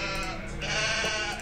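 Sheep bleat in the Animal Jam online game, a short, steady, bright tone that fills the brief moment with no talking.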